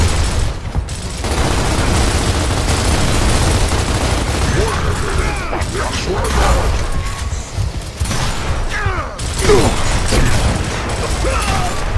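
Gunfire and mechanical clatter fill a Gears of War battle, with rapid bursts and booms running continuously over dense game sound effects.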